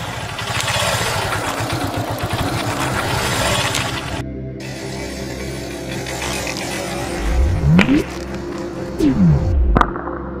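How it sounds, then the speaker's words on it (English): A motorbike rides over an iPhone XS, its engine idling and revving nearby, with two rising-and-falling engine sweeps and some clattering near the end. "I'm going to ride this bike over this iPhone"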